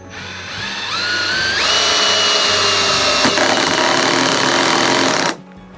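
A cordless drill-driver driving a screw into wood, a loud continuous motor whine that rises in pitch as it spins up, holds steady under load for several seconds, then stops abruptly.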